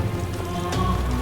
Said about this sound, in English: Rain? Bloody hell.